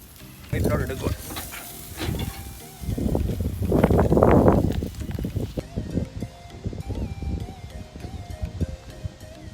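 Grilled chicken on a charcoal grill gives off a steady hiss and sizzle. Bursts of louder crackling rise and fall, and a voice speaks over it.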